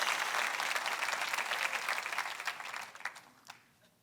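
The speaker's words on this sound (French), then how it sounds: "Si vous êtes d'accord, donnez une bonne main d'applaudissement." Church audience applauding together, a dense wash of clapping that fades out over about four seconds.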